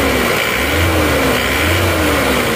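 A warm Isuzu Panther engine runs steadily while driven, a loud continuous mid-pitched drone with slight rises and falls in revs, close and alone.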